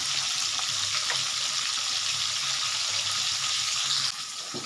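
Rui fish fries in a pan on a gas stove, giving a steady, close, hissing sizzle that continues without a break and without talk.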